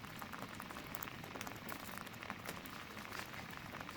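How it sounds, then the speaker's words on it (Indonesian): Spice paste for soto ayam simmering and bubbling in a pan, a faint continuous crackle of small pops and fizzing. "Masak, aduk-aduk sebentar hingga bumbu mendidih."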